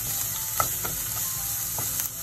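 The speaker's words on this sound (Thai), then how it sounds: "ใส่น้ำมันค่ะเอาหอมหัวใหญ่ลงไปผัดนะคะ" Onion stir-fries in oil in a pan, a constant close sizzling hiss with a few soft scraping and clinking touches from stirring, brief and without talk.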